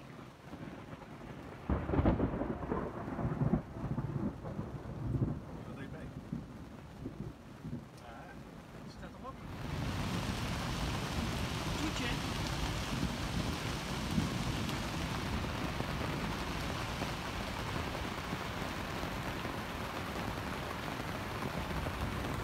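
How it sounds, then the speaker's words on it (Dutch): Rain falls steadily on a holiday in Anduze, France, starting as a quieter patter and becoming a dense, loud, constant hiss, with a few bumps from handling in the first seconds. "Het regent, de panden worden nat."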